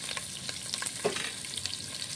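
Chopped ginger, garlic, curry leaves and green chillies frying in hot coconut oil make a crackling sizzle, broken by scattered pops and light stirring taps, for a crab roast.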